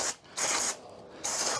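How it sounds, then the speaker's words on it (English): Brake cleaner sprays from an aerosol can onto car parts in two loud hissing bursts with a short pause between them, close to the listener. "a little bit of brake cleaner,"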